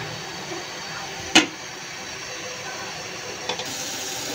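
Potatoes and papaya go into hot spiced oil with a steady, moderate sizzling hiss that runs throughout, broken by one sharp utensil clink near the start and a softer knock later.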